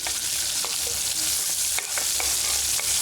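Onions and vegetables such as drumstick and beans frying for tiffin sambar, a constant close sizzle with intermittent scraping taps of stirring, no voices.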